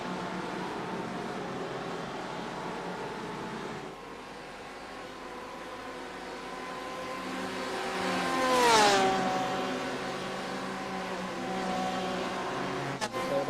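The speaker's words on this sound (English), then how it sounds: "The sound of the rumbling V8s." GTE race cars with V8 engines circulate at Canadian Tire Motorsports Park in a racing game, a steady distant drone that swells as one car sweeps past near the middle with a pitch drop, then settles back to a background rumble.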